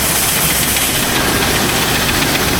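A truck engine idles on a farm during corn shipping, a steady, close, loud mechanical rumble with a slight knocking texture and no talk over it.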